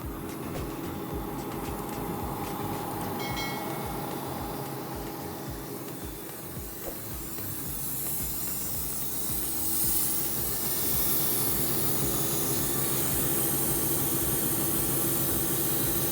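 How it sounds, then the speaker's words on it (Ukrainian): An Atlas Copco XAHS 237 DD diesel compressor runs under load with a loud, steady engine drone beneath a broad rushing hiss of air. It is close and continuous, swelling slightly toward the end, with no talk. "І ось так він в нагрузочку Працює, покажу зараз."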